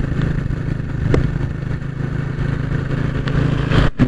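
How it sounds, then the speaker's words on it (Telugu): Kawasaki Boxer motorcycle, an old cheap bike, riding on a forest ghat road with a steady low engine drone and wind rumble, plus a few light clatters. "నేను ఇప్పుడు రైడ్ చేసే బైక్ అయితే 5000 రూపీస్ కొన్నాను, కవాసాకి బాక్సర్"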